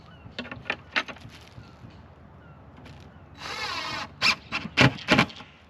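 An impact drill drives screws into the brackets of an RTA bathroom vanity cabinet for a manufactured home, with short clicks and taps first, then a sustained whirring burst and several sharp, loud hammering pulses up close.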